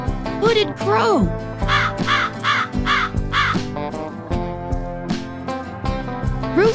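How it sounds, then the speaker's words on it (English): A hooded crow gives a run of harsh, repeated caws, loud and close, over a bright musical backing. "Hooded crow."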